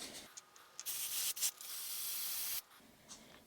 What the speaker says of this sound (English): So let's get all set up and we'll start spraying in each of our cups.